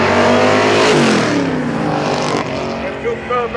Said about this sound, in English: With two 12-barrel carbureted 428 inside that beautiful green Mustang